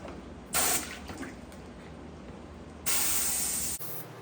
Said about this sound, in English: I'm just spraying to the side up here